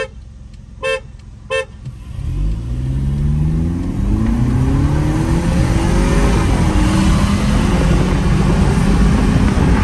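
A car accelerates hard in Sport mode during a drag race between a Mercedes and a Kia, the loud engine note rising through several gear changes after two short horn toots at the start.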